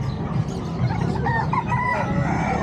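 A rooster crows loudly over a busy, noisy background of clucking fowl at a livestock market in Bocaue, Bulacan, with no talking.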